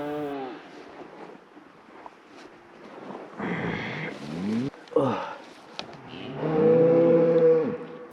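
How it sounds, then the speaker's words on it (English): A herd of cattle being driven along a mountain trail through deep timber lets out several long, loud moos close by, one after another, with wind buffeting the microphone and a voice talking between calls. "we wait for all the cows to file in and make sure that they go the right way"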